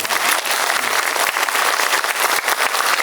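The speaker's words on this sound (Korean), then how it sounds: "우리 대표님 박수 한번 쳐주시죠." A crowd at an expert briefing session on apartment redevelopment gives the representative a round of applause, loud, close, continuous clapping with individual sharp claps standing out throughout.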